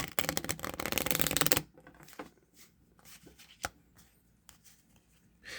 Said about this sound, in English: we'll shuffle them a few times.